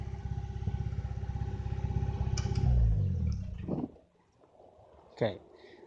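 A 1998 Mitsubishi Eclipse GS engine runs loud and rough for several seconds with a heavy, droning idle, then suddenly cuts off, leaving quiet background with a short clatter near the end.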